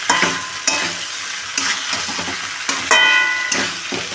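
Vegetables for Bengali shukto being sautéed with salt in a pan, with a steady close sizzle of frying and sharp scraping stirs recurring roughly every second, no voices.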